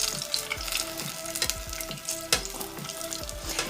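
Apple fritters sizzle steadily in hot canola oil, a dense crackling fry broken by a few sharper pops and spatters, close and fairly loud with no voices.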